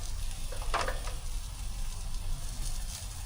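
Chicken fries in a pan during outdoor van cooking in a gym parking lot, giving a steady, even sizzle throughout with a few brief louder crackles.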